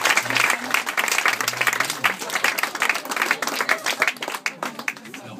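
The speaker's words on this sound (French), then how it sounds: "Merci d'applaudir." Audience applause fills a hypnosis show at Café du moulin, a dense, steady crackle of many hands clapping close by for several seconds, with a voice speaking faintly underneath.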